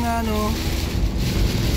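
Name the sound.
strong wind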